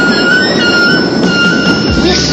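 A train runs along the rails with a steady, loud rolling rumble and faint metallic ringing above it, continuous throughout with no voices.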